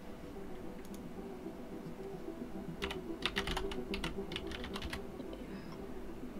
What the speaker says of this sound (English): I never realized how loud your keyboard is until you gotta do something where other people can hear it.